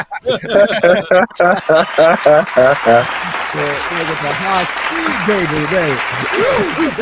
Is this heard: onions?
no